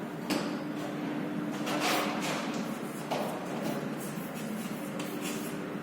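Handwriting on paper, a faint series of short scratchy strokes with soft pauses between them, fairly close and on its own, with a little room noise behind.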